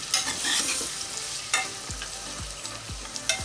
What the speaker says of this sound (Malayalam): അപ്പോൾ നമ്മുടെ തക്കാളിയൊക്കെ ഒന്ന് നല്ലപോലെ വഴന്ന് വന്നിട്ടുണ്ട്.